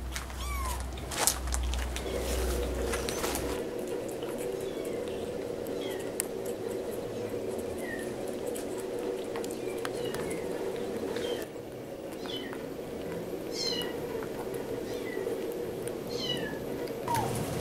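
Several small rescued kittens meow repeatedly in short high cries, scattered across a steady low background hum, fairly faint and close, with no talking.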